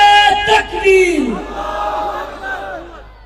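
A large crowd at a religious gathering roars back a chant in answer to a Takbir slogan call, loud and massed, the collective shout swelling then trailing off into a sustained voiced murmur.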